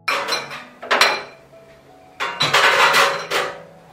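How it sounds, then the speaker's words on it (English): Glass jars are set into an oven to sterilize, giving a few scattered clinks and clattering knocks of glass against metal racks, close and fairly loud, with quiet gaps between. "I also put the jars in the oven to sterilize them."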